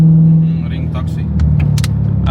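A Nürburgring ring taxi car rumbles past with a loud, steady engine drone, while people talk over it and brief sharp clicks cut in.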